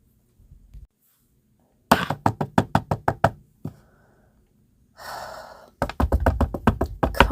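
Sharp knocks on a door come in two insistent bursts of rapid, close raps separated by short gaps, with a breathy gasp between them.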